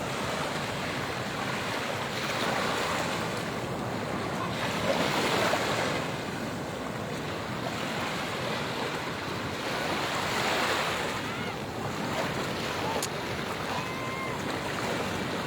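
Sea waves washing onto a beach at high tide, a continuous rolling surf with swells rising and falling, mixed with wind buffeting the microphone and no talk.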